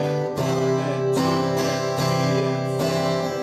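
Strummed acoustic guitar chords follow a quarter, two-eighths, two-quarter rhythm, several crisp downstrokes sounding near and steady with sustained ringing between them and no talking.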